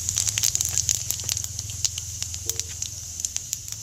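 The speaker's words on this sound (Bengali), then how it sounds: "তেলটা গরম হয়ে গিয়েছে। এবার অল্প গোটা জিরে দিয়ে দেব।" Whole cumin seeds hit hot mustard oil and crackle, with a steady near sizzle and a scatter of sharp pops that keep going without pause.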